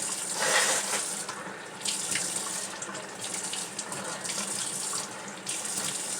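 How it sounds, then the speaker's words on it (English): A tap runs steadily and fairly close as soap is rinsed off, and the water gushes and splashes continuously for several seconds with no talking. "Let me wash this soap off."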